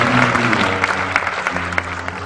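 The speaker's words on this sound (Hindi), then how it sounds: "जोरदार तालियां।" Loud audience applause at a Christian gathering, a dense burst of clapping hands throughout that stays strong and steady with no speech over it.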